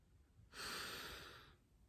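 One slow, deep breath drawn close to the microphone, a soft airy rush lasting about a second that swells and fades, set in a calm guided relaxation exercise with quiet around it.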